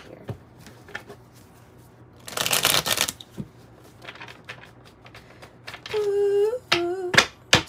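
A tarot deck gets a brief riffle shuffle, a sharp flurry of card flutter amid small handling taps and clicks, followed by a few soft squeaky tones, close and with no talk.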